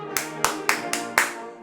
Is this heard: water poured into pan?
no